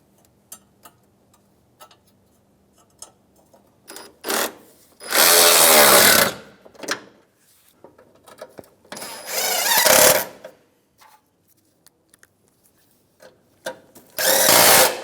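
A power drill on a 2007-2013 Acura MDX drives in a 10 mm bolt during A/C condenser replacement, with three loud, close whirring bursts of a few seconds each. Faint ticks and clicks fill the gaps between them.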